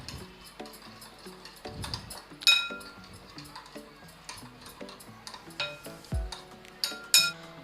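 A spoon stirs black pepper and other spices together in a bowl as a marinade for fried chicken broast, giving close, irregular clinks and scrapes against the bowl with short pauses between strokes.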